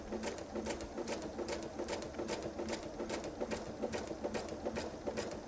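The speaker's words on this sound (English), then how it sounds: "All I'm going to do is go along and stitch" A sewing machine stitches a quilted patriotic nine-patch table runner, its rapid even needle clatter running steadily and close for several seconds with no talk over it.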